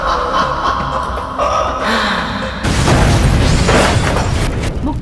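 A bomb blast in a movie trailer about a sleeper cell and a Coimbatore bombing lands as a loud, low boom over tense music, followed by a long, rumbling, noisy aftermath.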